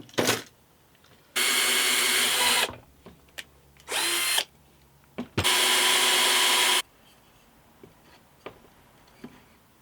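A power drill countersinks a screw into plywood in three loud, steady bursts of whirring, each a second or more long, separated by quiet pauses with small clicks and knocks of handling.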